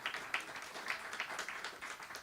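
A town hall audience claps and applauds, a steady patter of many hands heard at a moderate distance, fairly quiet and continuous throughout.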